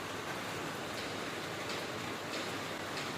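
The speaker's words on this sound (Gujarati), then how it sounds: "વરસાદ આવવા માંડ્યો જો." Steady rain falling at an outdoor home kitchen, a dense even hiss of drops with faint ticking spatters throughout, continuous and fairly quiet with no talking.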